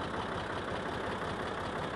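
A tractor engine idles steadily at close range while set up for planting soybean seed, a continuous low rumble with no break and no voices.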